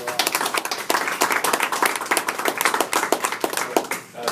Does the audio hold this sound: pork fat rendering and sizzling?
no